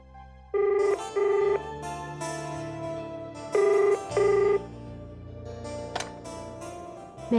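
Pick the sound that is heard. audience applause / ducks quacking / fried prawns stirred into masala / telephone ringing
telephone ringing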